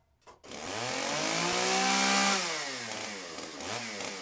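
A sampled chainsaw from an orchestral sound library revs up loudly, its buzzing pitch rising and then holding in a sustained high whine before easing off slightly, heard alone and close.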